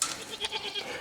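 A goat on a farm bleats in short, close, nasal calls over about a second.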